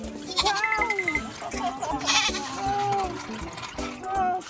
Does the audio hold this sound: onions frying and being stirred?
no